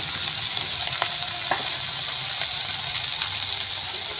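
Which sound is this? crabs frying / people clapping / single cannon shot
crabs frying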